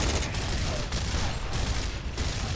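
Sustained gunfire from a Gears of War firefight in an underground operation, a dense, continuous fusillade of rapid shots with bursts recurring every half second or so, fairly loud and busy throughout.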